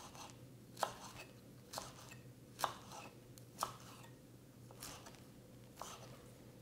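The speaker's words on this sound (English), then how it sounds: "roll them up with the bigger leaves on the outside and slice them thin with your knife" A kitchen knife slices rolled-up fresh basil leaves thin on a cutting board: a steady run of soft, close taps roughly every second, fairly faint over a low room hum, with no talk.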